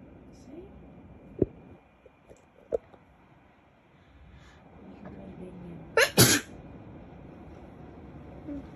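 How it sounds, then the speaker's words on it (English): A person sneezes once, loud and close, with a short double burst near the end after quiet room sound, with a few faint clicks and talk earlier. "I just sneeze, okay?"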